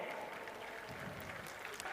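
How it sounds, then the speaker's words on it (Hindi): Brief, fairly faint burst of audience applause at a government ceremony handing appointment letters to selected JSSC CGL-2023 candidates, a steady patter of many hands clapping together. "जोरदार तालियां।"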